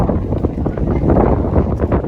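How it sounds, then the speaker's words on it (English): Loud, blustery wind at an off-road race buffets the microphone with a constant low roar and gusty rumble throughout. "It's getting awfully windy"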